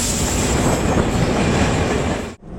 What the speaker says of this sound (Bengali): 421 কিলোমিটার ডিস্টেন্স কভার করে এই গুডুর জংশনে ট্রেন ঢুকলো